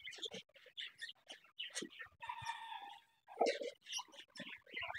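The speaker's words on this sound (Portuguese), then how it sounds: "periquito de várias raças" Busy chorus of parakeets of several breeds, including Australian, chirping and squawking in an aviary, with a sustained buzzy trill in the middle, close by and fairly lively.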